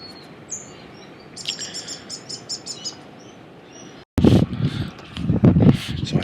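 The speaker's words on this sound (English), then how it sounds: "Don't know if you can hear them, but the birds are everywhere." Birds sing at dawn in the bush near a beach, with bright chirps and short repeated phrases, faint to moderate, followed by a sudden burst of close rustling handling noise.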